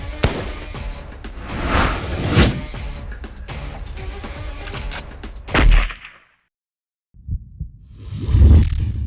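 Gunfire in an Urdu crime drama during a police standoff: dense, loud bursts of shots over a heavy background, a sharp blast near the middle, a brief total silence, then more booming fire toward the end.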